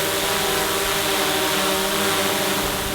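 A DJI Mavic 2 Pro drone hovers directly overhead, its propellers producing a loud, steady buzzing whir with layered tonal hums, close and continuous throughout.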